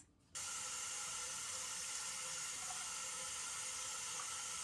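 After a brief quiet moment, water from a tap starts running into a bowl, a steady hissing rush that continues unbroken, filling about 8 cups in a home kitchen.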